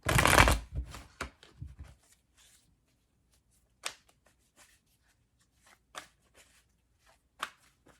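Tarot cards being shuffled up close: a dense burst of riffling at the start, then a few scattered quieter card flicks and taps spread out with long pauses between them, no voices.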